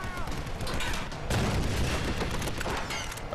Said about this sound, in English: Oh, right, a grenade launcher.